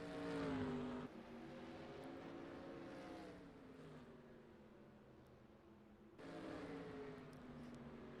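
A pace car in a racing video game set at Nashville Fairgrounds passes with a droning engine that bends in pitch, then settles into a steady hum before a second, louder engine swells in near the end.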